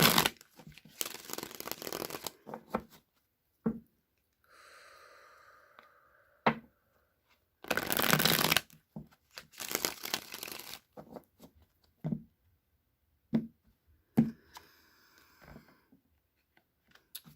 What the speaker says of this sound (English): I'm just going to shuffle these 3 times and then I'll draw 3 cards right off of the deck.